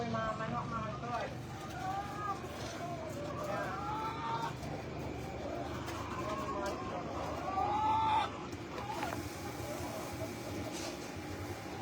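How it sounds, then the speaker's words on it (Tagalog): Chickens cluck and a rooster crows on a farm, the bird calls recurring through steady outdoor background sound while people talk nearby. "Ito po yung mga manok, mga toy."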